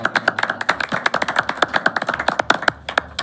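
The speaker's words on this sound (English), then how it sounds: "Round of applause for the job." A round of applause breaks out at a city and county planning board meeting, many hands clapping quickly and unevenly in a dense, close patter that keeps going without pause.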